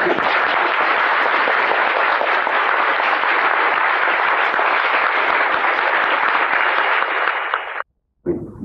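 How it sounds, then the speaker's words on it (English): Dense, loud, sustained applause from a convention panel audience fills the space, steady and uninterrupted for several seconds before cutting off abruptly near the end. "would you please applaud the room?"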